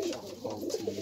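Several pigeons coo in soft, repeated low calls, fairly close and steady for about a second, with a faint murmur of other birds in the background.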